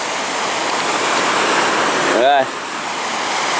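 A high Irish river runs in full spate, a broad steady rush of flowing water close by, with a brief spoken word cutting in over the roar.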